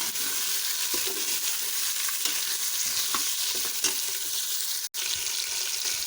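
Chicken being stirred into fried onions in a cooking pot, a continuous loud sizzle with scraping, stirring textures throughout and one brief dropout near the end.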